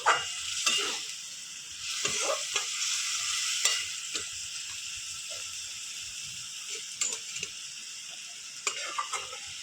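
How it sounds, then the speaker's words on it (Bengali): Okra being stirred in a frying pan, a steady bright sizzle with scraping spoon strokes recurring every second or so, close and moderately loud, with no talking. "ভেন্ডিগুলো ভালো করে নেড়ে চেড়ে নেব।"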